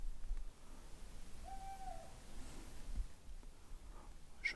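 Eagle-owl or scops owl gives a single faint hoot outdoors at night, far off against a quiet, low background hiss, with silence around it.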